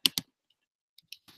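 A computer keyboard is typed in short, sharp bursts: two loud clicks, a pause, then a few lighter taps and a quick flurry of keystrokes nearby.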